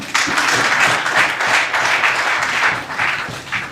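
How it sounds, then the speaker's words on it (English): Audience applause from an evening crowd at a business dialogue event in Westmoreland, a dense, steady clapping that fills the room and tapers slightly at the end. "Put your hands together for them."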